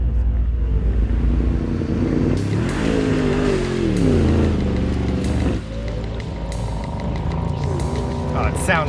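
A 2025 Mercedes-AMG GT 63 engine drones and revs while driving on slick ice, a loud continuous rumble with pitch rising and falling through acceleration, with people talking over it.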